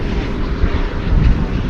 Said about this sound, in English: I think this may be our last plane.